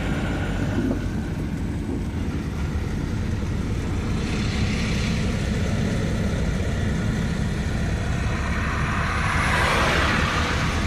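A truck loaded with cows drives on a Haryana highway on a foggy day, its engine giving a steady, loud, low rumble with road noise throughout and no talk.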